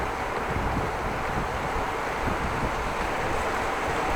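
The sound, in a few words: wind blowing while cycling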